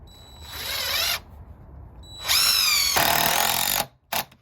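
A power drill drives 2.5-inch screws into 2x4 lumber for a bed frame: a rising whine for about a second, a pause, a longer loaded run of nearly two seconds, then a short final burst, loud and close.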